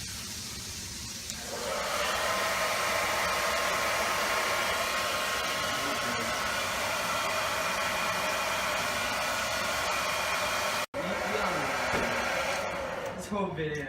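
A blow dryer roars steadily at close range while drying dried mustard, a loud continuous whooshing hiss that runs almost unbroken after a brief quieter start, with a voice speaking over it.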